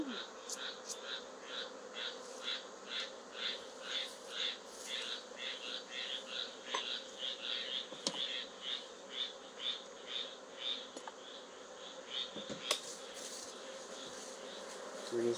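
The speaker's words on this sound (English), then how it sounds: "We're just putting the bees right back into their home so we can take their honey. Thank you, honeybees." A steady, faint buzzing of many honeybees hums throughout during a tupelo honey harvest, pulsing gently, with a few soft clicks and knocks of hive frames nearby.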